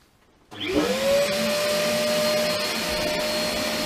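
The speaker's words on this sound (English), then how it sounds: "The vacuum cleaner's about to start." A vacuum cleaner starts up with a rising whine, then runs steadily with a loud, constant droning hum.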